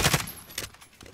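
Video game gunfire in Warzone, heard as a short cluster of sharp cracking shots. Two quick bursts come close together, then scattered fainter reports follow in just over a second.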